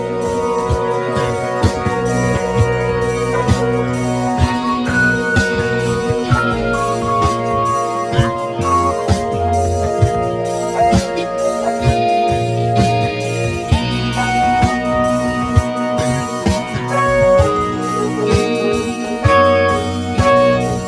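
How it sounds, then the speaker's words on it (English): A dense, continuous music sample plays on its own from an MPC Live with sustained tones and layered instruments, steady in loudness and free of any drum hits. "I'm gonna mute the drums and I'm gonna play just the sample"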